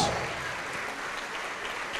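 A church congregation claps together during an evangelical service, a dense steady patter of applause filling the room throughout.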